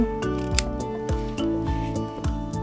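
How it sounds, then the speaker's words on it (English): A Pentax KM film camera's advance lever is wound in a series of quick ratcheting clicks and mechanical whirs, close and fairly loud, with no talking. "advance the lever like so"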